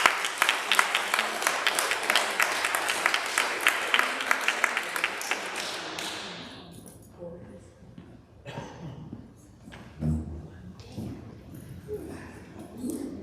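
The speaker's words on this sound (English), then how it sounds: "A round of applause again for Jim for such wonderful." An audience at a local history talk applauds with dense, sustained clapping for about six seconds. It fades, and scattered voices and murmuring talk follow.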